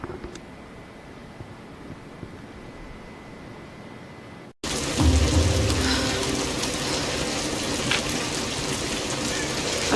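A storm with rain in Tomb Raider (2013), quiet steady rain hiss that abruptly cuts, then returns much louder and heavier, a dense close downpour roaring on.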